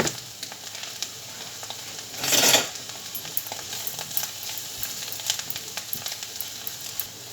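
Mushrooms sizzling in a sticky soy-based bulgogi sauce in a pan, a steady crackling fry with a brief louder hiss midway and light scraping of a utensil.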